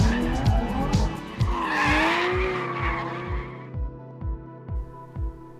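An Aston Martin V12 Vantage S and a Porsche 911 R drift at angle, with loud tire squeal sweeping over engine roar that fades as the cars move off, leaving a rhythmic repeating thump.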